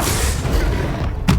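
An Incendio fire spell cast in Hogwarts Legacy bursts out as a loud, sustained roaring whoosh of flame, ending in a short heavy thump.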